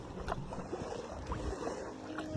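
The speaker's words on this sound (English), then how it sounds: "A boat is a form of transportation. Boats are used to travel on the water." Small boat moving on open water, with soft lapping and splashing against the hull mixed with light wind, steady and moderately near throughout.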